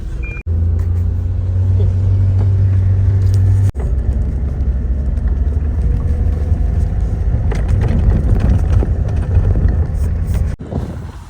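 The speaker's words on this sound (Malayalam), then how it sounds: "നമ്മൾ ഇത്രയും നേരം ഓഫ് റോഡിങ് ചെയ്തുകൊണ്ടിരുന്നത് സോവിയറ്റ് ആൻഡ് റഷ്യൻ മിലിറ്ററിയുടെ വാഹനമായിട്ടുള്ള ലാഡയിലാണ്" A two-door Lada, a Soviet military vehicle, drives off-road through mud with a continuous loud engine rumble and buffeting noise close to the microphone, broken by a couple of brief cuts.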